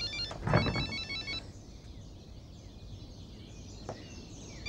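A telephone rings in a short electronic trill near the start, then fades into a quiet room hum with faint chirps.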